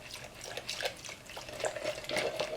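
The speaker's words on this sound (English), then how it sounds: "the spring, top cover, and 2 keepers in mineral spirits. Give them a good wash." Valve springs, a top cover and two keepers from a 1994 Saab 9000 B234I engine swish and clink as they are washed in a bath of mineral spirits, a close, brief run of liquid splashing without speech.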